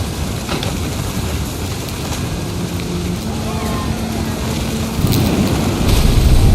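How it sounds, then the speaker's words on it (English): Steady rain hiss with a low thunder rumble swelling toward the end, from a stormy scene in the video game What Remains of Edith Finch, with a faint tonal hum running underneath. "The thunder sounded much too close and full of angry power."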